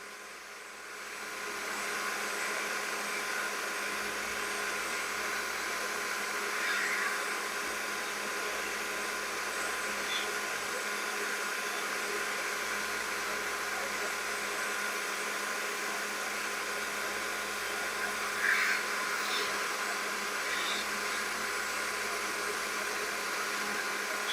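Heat gun blowing hot air onto a blow molded plastic case, a steady close fan roar and airy hiss holding constant throughout, no talking.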